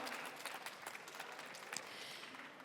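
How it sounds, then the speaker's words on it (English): An audience at a startup pitch competition demo day applauds a presenter, a short burst of brisk, fairly quiet clapping from a room of people. "Please give him a big round of applause."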